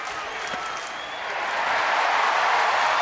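Crowd at a baseball stadium during a Yankees at Rangers game, May 2011, a broad wash of cheering and applause that swells louder over a few seconds.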